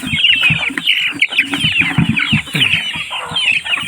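Hens clucking steadily and close by at a feeder, several birds overlapping in a busy, continuous chorus.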